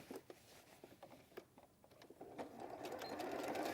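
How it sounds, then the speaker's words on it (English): A sewing machine sews a seam in 100% cotton fabric, quiet and close: a few slow ticking stitches at first, then a steady rapid whirring run that builds toward the end. "Right, one more seam to do."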